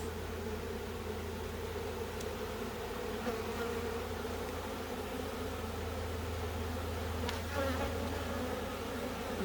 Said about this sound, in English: I want you to see the worker bees, the flying bees that come in